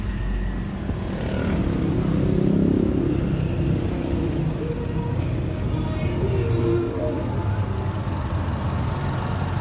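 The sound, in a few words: motorcycle engine running then stopping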